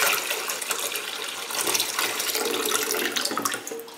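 Tap water pours steadily into a cooking pot in a kitchen, a continuous bright splashing rush that stays loud and even throughout, with no voices.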